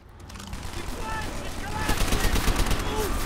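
Machine gun fire in the World War II shooter Call of Duty: World at War comes as dense, continuous rapid bursts that grow louder, with a player talking over the battle.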